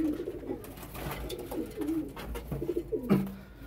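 A young pigeon recovering from pox coos close by in a few soft, throaty bursts, with no talk over it.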